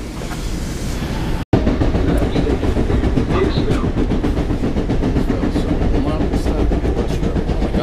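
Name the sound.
LIRR train with flat-spotted wheels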